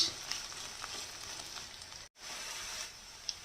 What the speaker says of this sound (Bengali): পেঁয়াজটা এই যে ভাজা ভাজা হচ্ছে বন্ধুরা